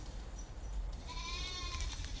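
A Saanen dairy goat bleats once, a faint wavering cry rising out of steady low outdoor rumble and noise, heard fairly distant with no talking.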